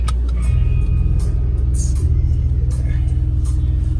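A Mercedes E63 AMG wagon's engine runs with a loud, deep, steady rumble and some revving, heard close up from inside the car.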